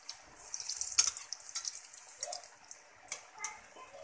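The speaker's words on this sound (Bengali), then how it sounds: "একই রকম ভাবে বাকিগুলো ভেজে নেবেন" Potato chops frying in oil give a steady soft hiss with scattered crackles and pops, some sharper bursts standing out, close by and moderately loud, with no talking.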